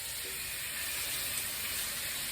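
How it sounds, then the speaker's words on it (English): About a pound of frozen, uncooked shrimp sizzling in a hot pan, a steady, faint, airy hiss with no talk over it. "I'm going to add the shrimp right now"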